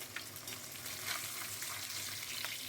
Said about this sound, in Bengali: মাছ কটা আমি নুন হলুদ মাখিয়ে আমি একদম মাছ কটাকে ভেজে নিচ্ছি